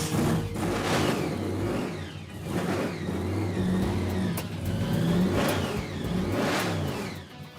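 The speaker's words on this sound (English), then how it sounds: "The engine should fire." A restored classic Chevrolet Bel Air engine catches and revs repeatedly, loud and close, rising and falling in strong surges without any voices.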